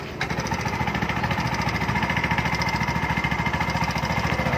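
A bao-bao's small engine runs in good condition, a steady close putter with a fast regular pulsing rhythm that holds unbroken throughout, no voices heard.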